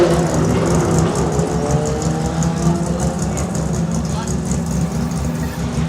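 A 1600 Datsun race car runs at a hillclimb, its engine droning steadily at moderate distance beneath a commentator talking over it throughout.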